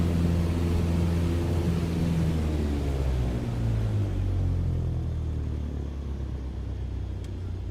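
Steady, loud low-frequency engine rumble from a simulated airliner in a flight game, droning continuously with little change and no voices.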